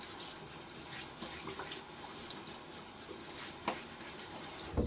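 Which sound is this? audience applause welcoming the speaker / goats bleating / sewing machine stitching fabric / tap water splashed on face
tap water splashed on face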